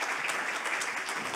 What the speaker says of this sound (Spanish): Un aplauso, Gerardo.